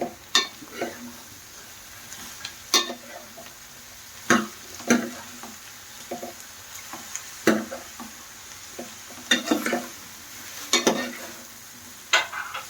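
Ridge gourd pieces stirring and frying in a pan with dried prawns and golden-brown onions, a steady low sizzle broken by sharp scraping stir strokes every couple of seconds, close and fairly loud.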